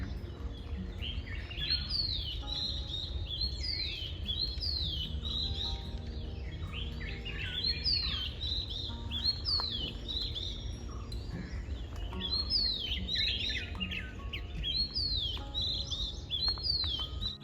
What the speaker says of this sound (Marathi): सकाळी सकाळी तर इकडे असा एवढा की किलबिलाट आहे